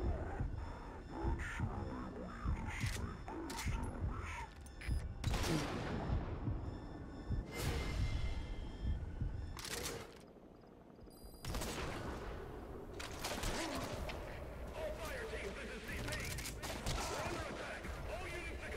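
Enemy sniper and gunfire in Metal Gear Solid V: several sharp, distant-sounding shots and short bursts spaced across the scene, over a tense ambient game soundtrack.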